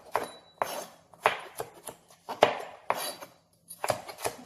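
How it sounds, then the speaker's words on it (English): A sharp knife roughly chops vegetables for a stock on a board, about ten crisp, uneven thuds and knocks close by, with short pauses between strokes and no speech. "we'll do a rough chop on our vegetables"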